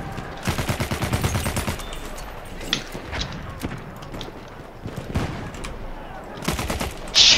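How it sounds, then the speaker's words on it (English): A machine gun hip fired in Battlefield 1, with rapid bursts of loud gunfire followed by scattered single shots and further shorter bursts. "Hip firing my machine gun."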